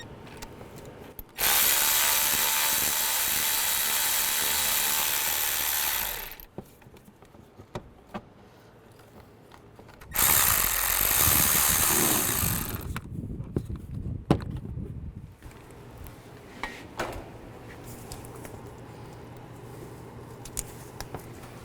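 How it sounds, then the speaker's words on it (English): A 10mm socket on a power tool spins bolts out of brackets during alternator replacement on a 2005-15 Nissan Xterra, with two loud sustained whirring runs separated by quieter clinks and handling noises. "I'm just going to remove the bolts for those."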